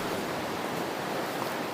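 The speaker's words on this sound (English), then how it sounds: "hearing all that rushing water" Rushing water of a Georgia mountain stream, a steady broadband roar with no breaks, close and fairly loud, with no voices over it.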